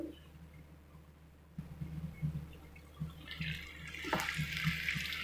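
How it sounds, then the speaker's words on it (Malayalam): Boiling water splashes and pours into a pan of gooseberry pickle, growing into a steady hiss of liquid, with soft clinks and thumps from the pan. "ഇനി നമുക്ക് തിളച്ച വെള്ളം ഒഴിച്ചു കൊടുക്കാം."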